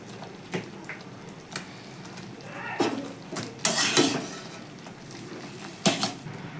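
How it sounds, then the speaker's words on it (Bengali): Tamarind stirred into melted jaggery in a pan, a spoon scraping and knocking against the metal in scattered clinks and brushes, close and moderately quiet, no voices. "তেঁতুলগুলোকে দিয়ে ভালো করে নাড়তে থাকবো"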